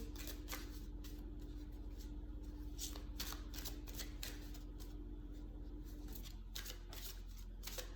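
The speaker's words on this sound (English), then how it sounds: "now let's see what's on the oracle cards for you." Oracle cards being shuffled in a quiet room, a steady run of soft papery riffles and flicks lasting several seconds, close and alone with a faint hum underneath.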